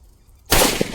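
A Kannan brand Sivakasi firecracker explodes close by with a sudden loud blast after near silence. A dense, crackling roar follows and holds to the end.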